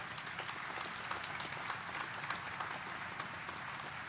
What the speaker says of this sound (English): How about another hand of applause for General Shea?